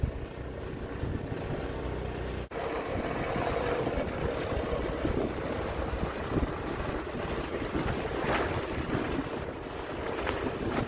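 A Honda snowblower clears snow with a steady engine roar mixed with heavy wind noise on the microphone, continuous and fairly close, with no talk.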